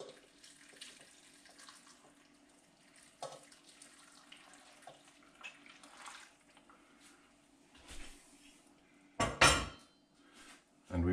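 Liquid stock being poured into a pot of courgettes on a home stovetop, soft sloshing and clinks of a metal pot and utensil, with a louder clatter near the end; quiet kitchen, no talking.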